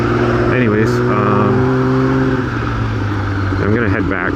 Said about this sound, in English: Why is the car so loud?